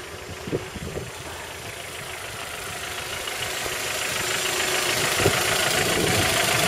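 A Honda Prelude 2.2 VTEC 4WS (200 hp) engine runs with a steady, rough idle that gradually grows louder, a close mechanical rumble with no voices.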